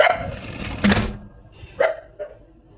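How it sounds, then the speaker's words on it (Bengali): Dogs barking outside a home at night, a few sharp barks spaced apart, the first loud and later ones softer and more distant, with quiet room noise between them. "আমার ছেলে উঠে পড়বে কুকুরের ডাকে।"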